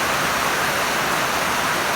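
Steady rain falling in hot weather, a dense even hiss that runs loud and unbroken throughout with no voices.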